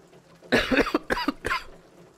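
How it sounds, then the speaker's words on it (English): A person coughs several times in quick, close bursts while crouched working on a junkyard truck's engine in a backyard. "Didn't mean to cough in your guys' ear."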